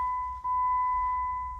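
Inside a Dodge Nitro, a steady electronic chime tone sounds continuously with one brief dip, clear and close, with no talking.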